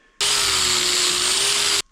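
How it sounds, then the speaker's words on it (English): Power sander working a Harbor Freight hatchet head with 80-grit abrasive: a loud, steady high-pitched whine with a faint tonal hum underneath, starting abruptly and cutting off after about a second and a half, with no talk. "I'm taking all the scratches that are going this way and I'm sanding them off"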